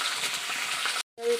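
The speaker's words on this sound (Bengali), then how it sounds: "এগুলো একটু ভাজা হোক।" Greens and stalks fry in a hot pan with a steady sizzle for about a second. A brief pause follows, then the sizzle resumes with a faint tone.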